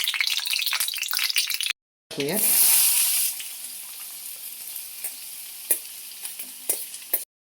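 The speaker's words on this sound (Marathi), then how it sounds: "एका कढईमध्ये तेल टाकायचं आणि मोहरी टाकायची." Mustard seeds hit hot oil in a kadai. A loud burst of sizzling after a brief silence fades into a steady fry, with a few sharp crackles and pops as the seeds spatter.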